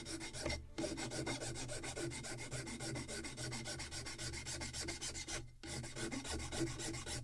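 A hand plane works across wood on a Model Shipways kit of the 1776 gunboat Philadelphia, a close, steady rasping rub in long repeated strokes with two brief pauses.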